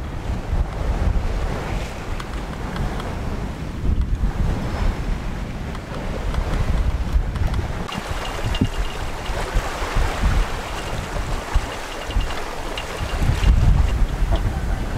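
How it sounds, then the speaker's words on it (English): Large Atlantic rollers surge around a sailing boat crossing the Bay of Biscay, a continuous rushing wash of sea mixed with heavy wind buffeting the microphone, swelling louder toward the end. "Nice big Atlantic rollers coming in."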